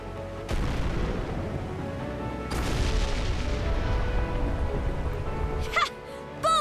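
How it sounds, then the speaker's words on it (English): Cannon firing in Ys X: Nordics, two heavy booming blasts a couple of seconds apart over a rumbling game soundtrack, followed by brief chiming effects. "Looks like that cannon still works."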